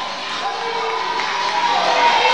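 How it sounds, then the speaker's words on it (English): A wrestling crowd roars for a wrestler's ring entrance, a loud continuous wash of cheering and shouting voices, including children, holding steady throughout. "Bob Evans, a big response from the crowd here"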